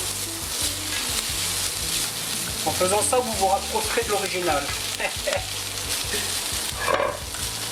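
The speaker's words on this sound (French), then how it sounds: "Vous faites revenir vos oignons avec vos lardons." Onions and bacon lardons sizzle steadily in a pan, with stirring scrapes that rise and fall, while someone speaks French over the cooking.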